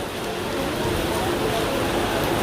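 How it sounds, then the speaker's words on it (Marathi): Heavy monsoon rain pours steadily at Dahanu beach among a crowd, a dense, constant hiss filling the background without pause while people talk. "जाम पाऊस आहे काही, जामच पाऊस आहे."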